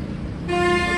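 Outdoor street traffic rumbles, then a car horn sounds a sustained, loud toot partway through this brief moment, heard close and dominant.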